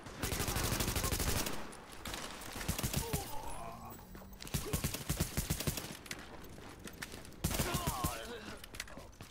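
Rapid bursts of automatic gunfire in The Division video game, loud repeated volleys with short pauses between them, near and sharp, continuing across the whole stretch.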